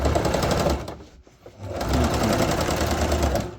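A sewing machine back stitching along a fabric box corner: a steady, close mechanical whir that breaks off into a short pause midway, then resumes at full pace.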